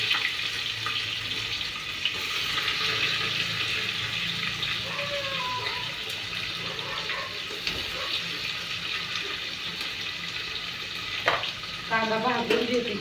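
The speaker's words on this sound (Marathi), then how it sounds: "कांदा भाजून देते छान असा तेलात मस्त पैकी" Onion sizzles steadily in hot oil along with mustard seeds and a bay leaf, a continuous close frying hiss lasting throughout, with a few light clinks of utensils near the end.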